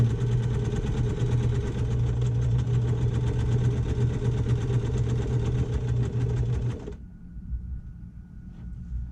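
A sewing machine runs continuously, stitching a seam with reverse stitching at the start, as a dense, steady mechanical whirring hum that stops abruptly near the end, leaving a faint, quieter background.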